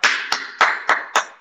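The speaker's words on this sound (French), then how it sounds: "je vais poser le téléphone pour vous applaudir" One person claps hands six times in slow, steady succession, each clap sharp and close, separated by short gaps, with no talking underneath.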